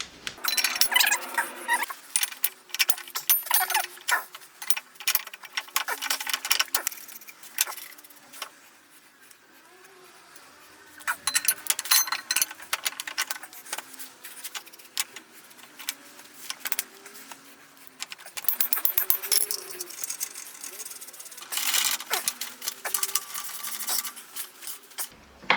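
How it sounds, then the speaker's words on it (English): Metal U-bolts fitted over a car's rear leaf spring give bursts of close metallic clinks, scrapes and rattles, separated by quieter pauses. "let's get some U-bolts on"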